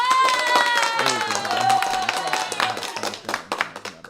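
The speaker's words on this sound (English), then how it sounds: "I have applause" An applause sound effect plays, with scattered clapping and cheering that thins into separate claps, mixed with voices and tonal sounds.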